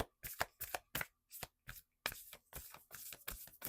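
Moonology oracle cards, a Manifestation deck, riffled and shuffled by hand in a series of sharp, close papery bursts with brief pauses between them.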